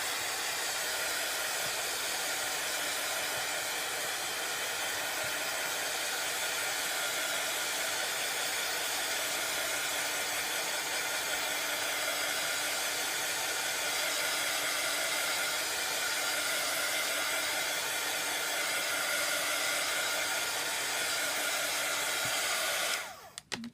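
A dryer blows continuously over layers of cracked-paint napkin texture, a loud steady close whoosh that holds for over twenty seconds before cutting off abruptly at the end.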